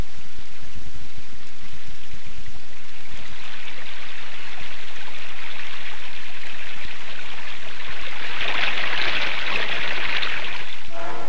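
Meltwater from shrinking Arctic snowdrifts in deep gullies runs down to the sea as a steady trickling, splashing stream, close by, swelling into a louder rush of water near the end.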